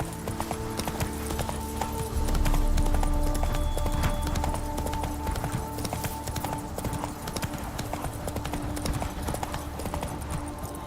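Horse hooves clip-clop at a steady trotting rhythm in The Witcher 3: Blood and Wine, set in Beauclair, sounding close and continuous over ambient game music and a faint neigh.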